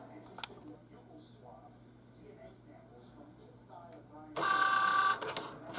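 A Cricut Joy cutting machine draws with a pen on a lion insert card, its motor starting up loud and close after a stretch of quiet room noise with faint background sounds.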